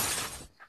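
Something shatters with a sudden bright crash that dies away within half a second, followed by a faint clink.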